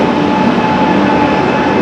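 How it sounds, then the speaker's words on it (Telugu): The Kanyakumari Express, running from Pune to Kanyakumari behind a WAP-7 electric locomotive, pulls into a station with a loud, continuous close-up rumble of moving coaches and rails. "ఇప్పుడు వ్యాప్ 7 లోకమోటివ్తో వచ్చేసింది. చూడొచ్చు కన్యాకుమారి ఎక్స్ప్రెస్"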